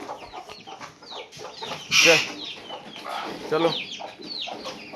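A rooster clucks and calls close by, with one louder squawk in the middle, while people talk over it.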